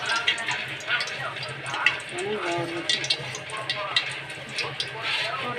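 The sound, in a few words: roasting semolina in hot ghee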